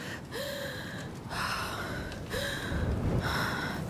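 A character in A Plague Tale: Requiem gasps for breath in several sharp, close inhalations with rising tones, spaced about a second apart over a steady low ambient hum.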